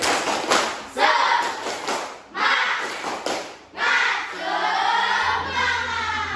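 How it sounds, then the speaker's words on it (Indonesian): A school class does a rhythmic spirit clap, tepuk semangat, in unison: bursts of patterned group claps alternate with children's voices chanting along, loud and close in the classroom. "mari kita tepuk semangat lebih dahulu"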